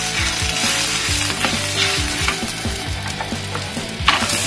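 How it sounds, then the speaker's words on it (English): Curry leaves hitting hot oil for a lentil chutney, a loud continuous sizzle and crackle with scattered sharp pops and clicks of stirring, close and without voices. "Now I'm adding some curry leaves also."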